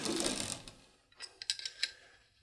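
An AR-15 charging handle slides into the upper receiver, a soft metallic scrape followed by a few light clicks and taps at close range in an otherwise quiet room.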